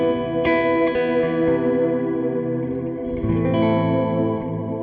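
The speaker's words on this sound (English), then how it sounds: "we get to our cloud reverb" Guitar played through the cloud reverb ambient effect of an M-Vave Blackbox, a dense, continuous wash of sustained chords with a few soft plucked attacks smearing into a thick ambient haze.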